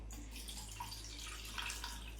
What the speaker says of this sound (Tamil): இப்போ இந்த புளியில் வந்து தண்ணி ஊற்றி வச்சிடலாம்.